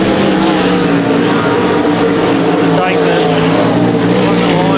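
Limited sprint cars race on a dirt track, their engines making a loud, continuous, close roar throughout while a commentator talks over the noise.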